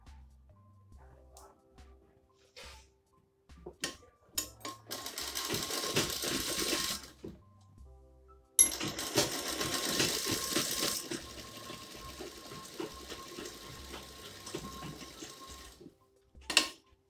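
A sewing machine stitches the top and sleeves of a child's jumpsuit in two long, close, steady runs separated by a pause, with faint clicks and handling noises between them.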